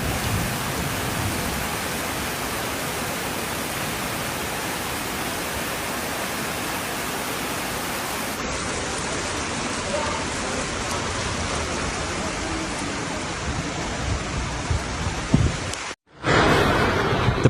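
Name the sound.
heavy rain during storms in Barcelona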